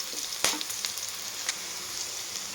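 Ginger garlic paste sizzling in a pan over cooked onions, a steady soft frying hiss with a few quick stirring clicks and spatters, fairly quiet and without talk.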